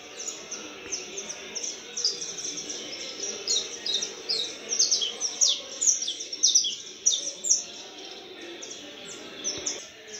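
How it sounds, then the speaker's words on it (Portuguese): Several caged canaries sing nearby, bright rapid trills and chirps that build into busy overlapping phrases, with a soft room hum underneath and no talking. "Os outros canários também, ó. Ele já começou a cantar."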